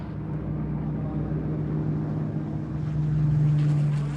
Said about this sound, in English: the sound of their Rolls-Royce Merlin engines